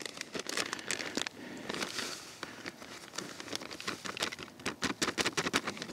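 Dry ingredients for a low-carb pumpkin pie are stirred together in a bowl, giving a steady run of close, soft patters and gritty crinkling scrapes with no talk.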